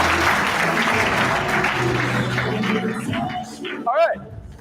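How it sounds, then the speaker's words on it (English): Audience applause at a live talk, a dense crowd clapping that fades away as a voice comes in over the tail end. "Give him a round of applause"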